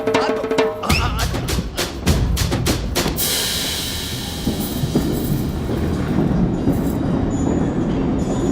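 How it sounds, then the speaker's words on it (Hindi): A train pulling out of a station, its loud rumble and clanking wagons rising after a few sharp bangs, with wheel screech and steady rail noise continuing throughout. "मेरी ट्रेन छूट जा रही है"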